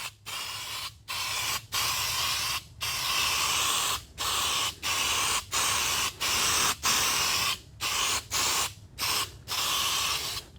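A U-pol 2K aerosol can sprays car paint onto a panel in a series of short, loud hissing bursts with brief gaps between them, close to the microphone.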